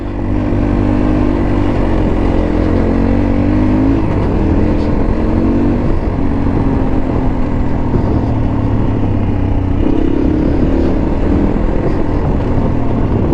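A car creeps along slowly in first gear, its engine holding a steady, loud, low drone throughout with no break.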